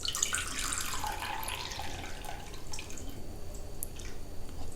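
Salt solution draining off sand, a steady trickle and splash of pouring water that holds at one level throughout, close and unaccompanied by talk.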